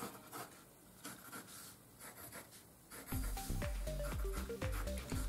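Pencil strokes on paper draw short parallel lines, a soft scratchy rubbing repeated in quick strokes, close and quiet, with a few clicking taps toward the end.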